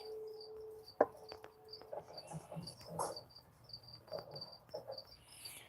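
Crickets kept in a pet tank chirp in short, steady repeating trills, faint and close, with a few soft taps and rustles among them.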